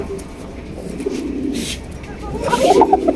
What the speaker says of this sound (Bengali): এই যে দেখেন কক কিন্তু ডাকতেছে